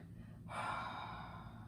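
Breath out during beginner yoga, a steady breathy exhale that starts abruptly and holds evenly for over a second, close and soft over faint room hiss.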